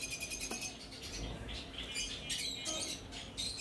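Blue lovebirds in a breeding colony with clay nesting pots, a dense chatter of high chirps and squawks overlapping continuously, with occasional rustling from the birds moving about.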